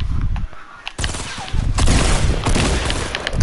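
Gunfire rattles in a Fortnite match, a burst of sharp shots followed by sustained dense firing and booms, loud and close, with a voice speaking briefly.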